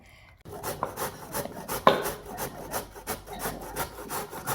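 Pumpkin is grated by hand for sweet pumpkin puri, giving close, rhythmic rasping strokes that repeat steadily after a short silence.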